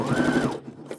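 A sewing machine back-stitching fabric for a tea bag holder, a brief close mechanical whir with a rising motor tone that stops and leaves small clicks of the mechanism.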